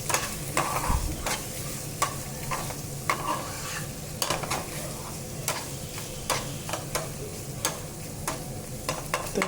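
Gurda (kidney) sizzles steadily as it fries in a pan, while a spoon scrapes and knocks against the pan in repeated sharp strokes throughout.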